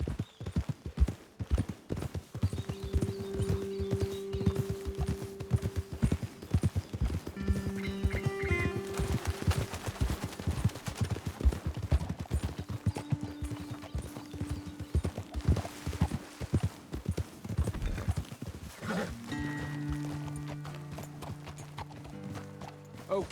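Horse hooves clip-clop steadily in Red Dead Redemption 2 on PS5 as several horses walk, a close rhythmic clopping under a music score, with a brief snort near the end.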